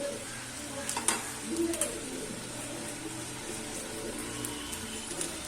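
Kohlrabi and potato pieces frying with salt, turmeric, coriander and cumin powder, a soft steady sizzle with a few stirring scrapes near the start and faint bird coos in the background.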